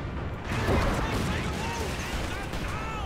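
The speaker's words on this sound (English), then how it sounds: "that's just a lot of explosions" Explosions from a White Phosphorus smoke and Calliope rocket barrage in Company of Heroes 2, continuous dense rumbling blasts and crashing impacts filling the scene, loud, with commentary speech over it.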